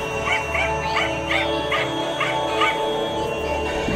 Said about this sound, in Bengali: বাড়ির পেছন থেকে কুকুরের ঘেউ ঘেউ শব্দ শোনা যাচ্ছে।